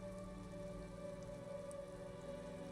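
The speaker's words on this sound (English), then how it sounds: "This rain will not let up anytime soon." Steady rain falls without pause in the video game Disco Elysium, a dense even wash with a low rumbling bed and a faint sustained tone; no voices.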